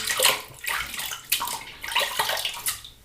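Hands rinsed under running water at a sink during a shave, a close, splashy stream of sloshing and patting that rises and falls in quick bursts, with no talking.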